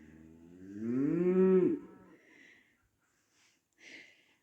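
A cow on a village farm gives one loud, drawn-out moo near the start. Faint rustling and a couple of soft sounds follow, and no one speaks.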